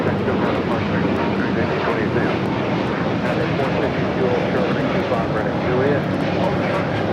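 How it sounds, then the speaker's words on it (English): A Spirit Airlines Airbus A320neo jet takes off at LAX, its engines giving a loud, steady, broad roar that holds for the whole stretch. "This is Spirit Airlines 1828 taking off to Atlanta on the A320neo"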